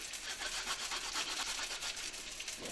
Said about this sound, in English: Then in here, I grate some ginger.